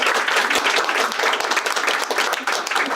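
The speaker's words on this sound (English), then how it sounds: "So another round of applause." Applause from an audience at a hospital Daisy Award presentation, a steady round of many hands clapping close by, with a faint voice in the mix.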